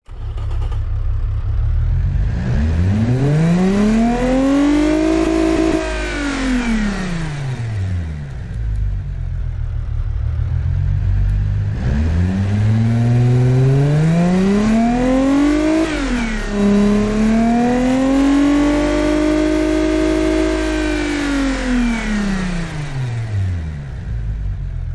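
A V6 engine in the video game Automation and BeamNG.drive revs up and down in long sweeping pulls, rising to a high whine, easing off, then climbing again, loud and close with no talking.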